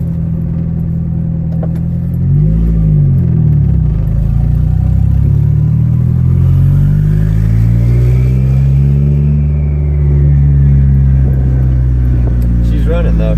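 A 1993 Honda Civic EG with a turbocharged engine and a freshly installed fuel pump runs loud and close, its deep engine drone holding steady while the pitch rises and dips slightly with light revs.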